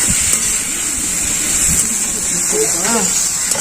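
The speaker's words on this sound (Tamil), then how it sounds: "இந்த வெங்காயத்தை வந்து நல்லா பொன்னிறமா வதக்கிக்கலாம்." Onions sautéing in a pan for a quail pepper roast give a steady, bright sizzling hiss throughout, with a voice speaking over it.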